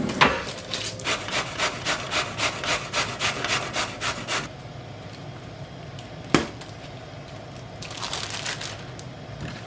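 Vegetables being hand-grated for freezing: a run of about a dozen quick, rhythmic rasping strokes, then a pause with one sharp knock, before the scraping picks up again briefly near the end.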